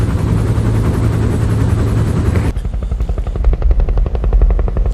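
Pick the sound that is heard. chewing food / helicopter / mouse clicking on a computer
helicopter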